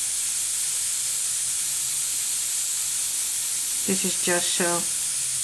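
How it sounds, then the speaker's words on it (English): A paint airbrush hisses steadily throughout while coloring paper flower cutouts, a constant airy spray, with a short stretch of speech over it near the end. "Now I'm slightly going to airbrush."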